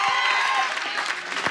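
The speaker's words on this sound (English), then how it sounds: "Y'all clap for Amari" Loud studio audience clapping and cheering for a contestant on a comedy improv show, a dense burst of applause with whoops and voices mixed in.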